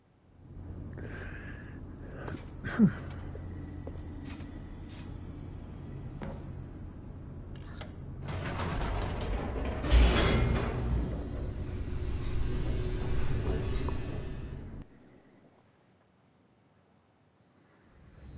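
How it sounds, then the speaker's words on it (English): Elevator descending in The Stanley Parable video game, a low continuous rumble with rushing, whooshing wind noise that swells into a dense roar, then cuts off abruptly to near silence. "The elevator raced downward, plummeting towards an unknown fate."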